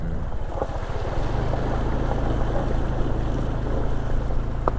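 A vehicle drives through the Abungan Falls river crossing in Dingalan, with a steady low engine rumble and rushing water and wind noise running close and loud throughout.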